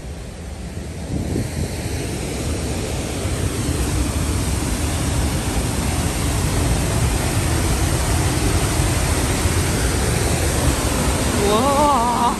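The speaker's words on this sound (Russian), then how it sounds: "Показываю вам снова этот водопад." A powerful waterfall near Gelendzhik roars steadily throughout after a storm, a dense broadband rush of crashing water with no pauses.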